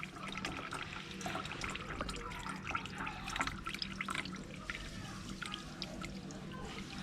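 Water draining from a tank under an automatic level control setup, a steady close trickling and gurgling wash of liquid flowing out, continuous with no voices.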